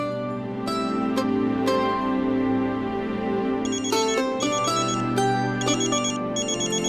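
An electronic phone ringtone plays a repeating melodic pattern of bright tones, loud and close, with no one speaking over it.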